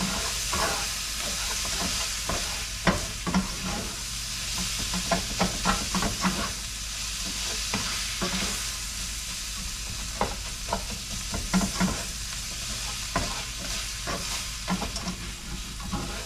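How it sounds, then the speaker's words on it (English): A meat mixture sizzles and fries steadily in a pan while a utensil stirs it, with scraping clicks and soft knocks over a continuous hiss, close and moderately loud, no talking. "we're just gonna give our meat mixture a stir a little bit"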